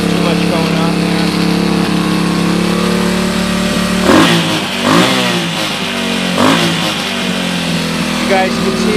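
A 1996 Suzuki DR200SE motorcycle engine runs steadily after a cold start with a custom choke cable end, a close, continuous single-cylinder idle with a few short throttle blips partway through.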